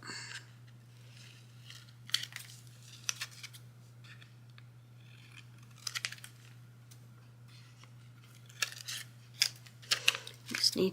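Scissors snip through craft materials for a Valentine's coquette ribbon-and-cherry swap, giving a scattering of short, crisp cuts, faint and close, with a low steady hum underneath.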